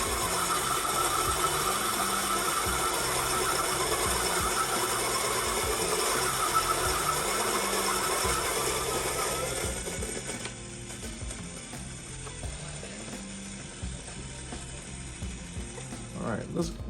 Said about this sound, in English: I started to say it while it was grinding, so it's probably hard to hear.